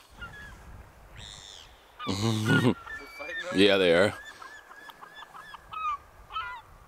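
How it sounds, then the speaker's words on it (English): Seagulls and terns call over fish remains on a rock in the water, with two loud, harsh honking cries and fainter squeals around them, while a person briefly speaks nearby. "There's all sorts of seagulls or gulls and terns coming in for it."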